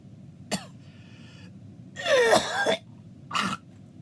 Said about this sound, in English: I'm gonna keep on coughing.